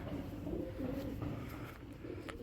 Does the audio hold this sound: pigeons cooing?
yes